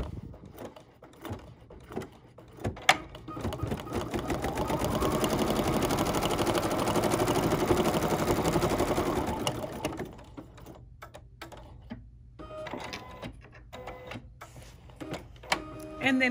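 Sewing machine stitching down the folded top edge of a fabric basket piece, one sustained run of several seconds up close, framed by clicks and handling noises before and after.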